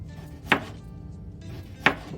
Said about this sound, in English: cut them into small pieces.